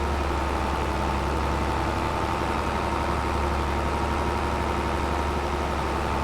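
A Volvo tractor nearly out of fuel idles in Farming Simulator 25 with a steady, loud, low-pitched diesel drone and a constant hum, unchanging throughout with no talk.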